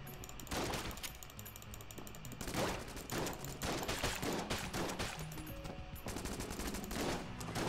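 Rapid, chaotic gunfire from the Enter the Gungeon video game, with dense bursts of shots and weapon sounds overlapping continuously at steady loudness, no speech.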